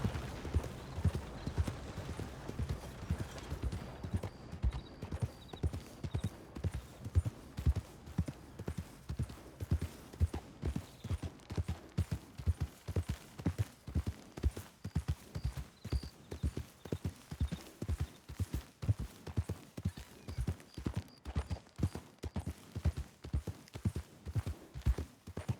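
Rhythmic clip-clop of horse hooves walking at a steady pace, continuous and fairly close, with an occasional faint whinny and brief talk in the background.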